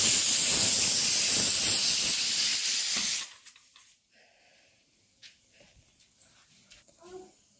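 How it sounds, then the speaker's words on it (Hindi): Potatoes boiling in a pot on a clay wood-fired stove give off a loud, steady steam hiss for about three seconds, which then cuts off to near quiet with faint scattered clinks and knocks. "आलू उबल रहे हैं।"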